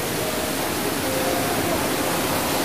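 A stream of water flowing outdoors in nature: a steady, dense rushing wash close by that stays constant throughout, with no voices.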